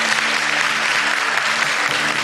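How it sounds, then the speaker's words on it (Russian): Sustained audience applause fills a graduation ceremony hall for master's degree graduates, a dense, steady clapping wash at close range with no pause across the moment. "Наши аплодисменты поддерживаем."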